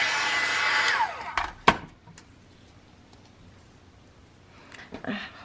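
A heat tool blows hot air onto a paper craft embellishment, giving a loud, steady airy roar that cuts off after about a second. A sharp tap follows, then quieter handling noises, and the blower briefly comes back at the end.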